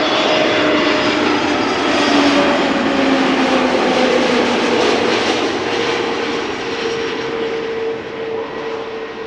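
KLM airliner from Malta arriving at Amsterdam Schiphol, a loud continuous jet engine roar with a steady whine that stays close and strong for the whole stretch, then eases slightly toward the end.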